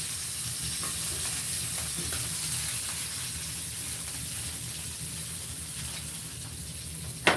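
Oil frying and smoking in a small pan on an oversized burner, a steady close sizzle and hiss with faint stirring scrapes and no talk, ending in a sharp clink.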